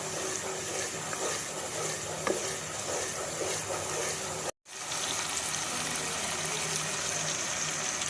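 Masala frying in a pan for spinach and fenugreek curry, a steady loud sizzle and hiss running throughout, broken once by a brief full silence partway through.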